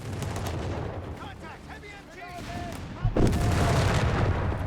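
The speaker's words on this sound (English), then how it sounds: "Machine gun there wiped out, but we've got artillery piece there definitely landing some hits here." Company of Heroes 3 battle: dense rattling machine gun fire and heavy artillery blasts rumble continuously, with a louder explosion a little past midway, while a commentator talks over it.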